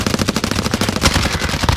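Dense, rapid machine-gun fire crackles through a Call of Duty Warzone firefight with a PPSh-41, bursts overlapping from several directions, loud and close with no pauses.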